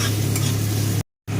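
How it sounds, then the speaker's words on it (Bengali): Chopped onion frying in a pan while being stirred, a loud close sizzle with a low hum, cut by a brief silence near the end before it resumes. "পেঁয়াজটাকে সামান্য একটু নেড়ে নেব।"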